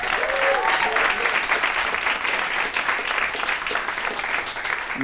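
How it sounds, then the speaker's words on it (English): A steady round of applause from an audience for a student performer at a New York community event, dense even clapping holding at a constant level for several seconds with no voices over it. "I want you guys to give her another round of applause."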